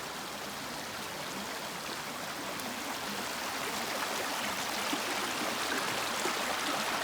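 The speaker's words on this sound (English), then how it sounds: "There's water flowing under the ice." Water flowing beneath ice along the Appalachian Trail, a steady close broadband rush and trickle that holds even throughout with no voices.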